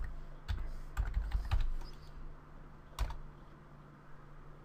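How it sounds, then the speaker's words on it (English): Typing at a computer keyboard while entering a boot repair command: a quick cluster of keystrokes in the first two seconds, then a single firm key press near three seconds, close and clear over a steady low hum. "So what I want to do next is type bootrec"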